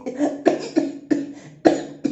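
A man coughs repeatedly in a home setting, five sharp coughs in a steady rhythm, close and loud with no talk over them.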